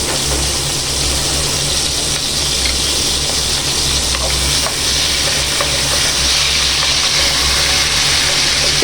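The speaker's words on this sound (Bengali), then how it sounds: "এটাকে আমি লাল লাল করে ভেজে নিই" Garlic and onion frying in plenty of oil in a pan, a loud continuous close-up sizzle and hiss that holds steady the whole time, with no talking.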